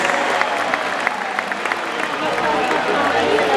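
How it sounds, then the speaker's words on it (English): A crowd in the stands at a SeaWorld San Antonio orca show applauds the volunteers, a dense, loud wash of clapping that carries steadily throughout. "give a big round of applause for our volunteers"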